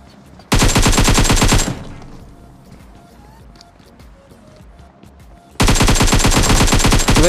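Automatic gunfire in the shooter game PUBG Mobile: two loud, dense full-auto bursts, one early and one at the end, separated by a quiet stretch of soft shuffling.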